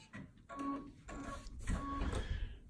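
A Destiny embroidery machine stitches an applique placement run, a close mechanical rhythmic whirring and chattering with a faint tonal whine that repeats in short cycles, with no talking.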